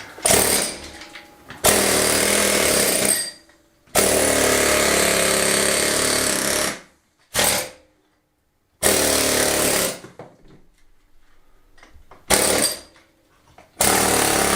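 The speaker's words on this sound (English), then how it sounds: "So, we've got my gloves, safety goggles, and air hammer." Air hammer chiselling off an old kitchen wall during a farmhouse renovation in Spain, loud rattling bursts of several seconds each, broken by short pauses of near silence.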